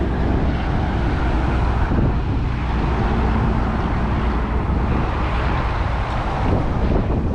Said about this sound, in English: It's windy, you can see the wind.